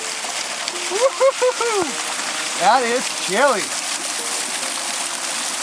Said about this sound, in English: Got to go through the waterfall now.